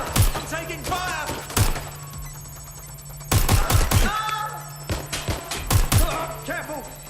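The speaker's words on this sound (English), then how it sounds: "I'm taking fire." Bursts of automatic gunfire in the video game Watch Dogs Legion crack loudly in rapid clusters, with game dialogue and electronic tones sounding in the gaps between volleys.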